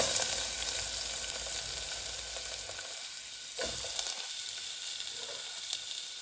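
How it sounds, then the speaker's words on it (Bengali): Sliced onion and green chilies drop into hot oil already holding nigella seeds, producing a loud, hissing sizzle that gradually settles into a softer crackle, with a few faint stirring clicks and no talking. "সো এখন আমি তেলের মাঝে পেঁয়াজটা দিলাইমু, পেঁয়াজ আর কাঁচামরিচ লগে দিলাইমু।"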